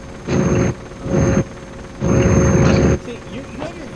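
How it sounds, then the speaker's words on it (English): Helicopter rotor and engine noise from the Operation Flashpoint: Dragon Rising video game comes in loud, close bursts, switching on and off three times with quieter gaps between them. "your helicopter sounds louder"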